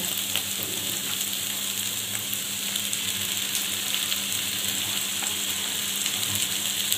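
Beaten egg fries with bitter gourd in a hot pan, giving a constant, even sizzle that stays close and steady with no other activity.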